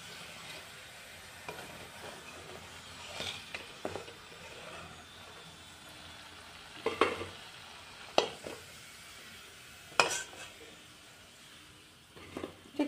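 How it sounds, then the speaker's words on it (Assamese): Sondro puri, puffed balls of dough, fry in hot oil in a kadai, a quiet continuous sizzle broken by sharp clinks and scrapes of a spoon against the pan at irregular intervals. "এইকেইটাও চন্দ্ৰপুৰী ভজা হৈ গ'ল।"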